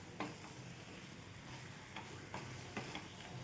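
Wheat flour and jaggery barfi mixture stirred in a pan, with a steady scraping rustle under a faint sizzle and a few sharper clicks of the spoon against the metal, close and fairly quiet.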